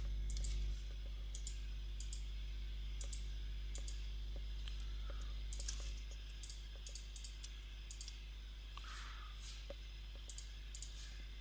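Sparse, light clicks and taps on a computer keyboard and mouse spread out over a steady low hum, quiet and close, with no talking, during work in building design software.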